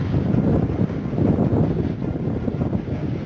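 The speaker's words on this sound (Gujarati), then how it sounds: "સો કિલોમીટર પ્રતિ કલાકની ઝડપે પવન ફૂંકાઈ રહ્યો હતો" Strong cyclone wind roaring against the microphone, a dense, continuous low rumble with gusty buffeting throughout and no voices.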